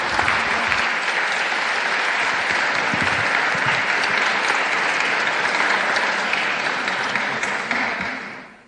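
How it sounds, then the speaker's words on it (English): Audience applause at a financial literacy symposium honoring the speakers: dense, steady clapping from a full room that holds for about eight seconds before tapering off at the end. "please give a warm round of applause to our speakers"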